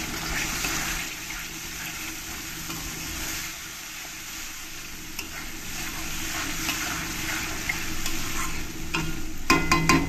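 Masala fries in a pan for prawn malai curry with a little water just added, giving a steady, loud broadband sizzle and hiss that runs throughout, with a brief louder spit near the end.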